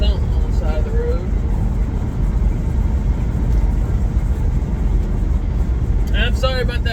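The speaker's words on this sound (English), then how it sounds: "I'm sorry about that noise, but with no air in this truck, I've had to crack the window" Loud, constant road and wind roar through the cracked window of an International truck with no air conditioning, a low rumbling drone throughout, with someone talking briefly at the start and end.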